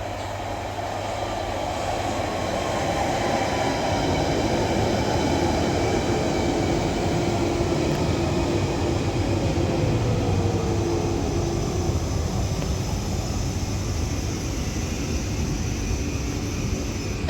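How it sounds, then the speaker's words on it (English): A London Underground Central Line 1992 stock train pulls into South Ruislip with a sustained rumble and wheel roar on the rails, loud and close and steady throughout, with rising whine tones layered over it. "Now arriving into another Central Line 92 stock."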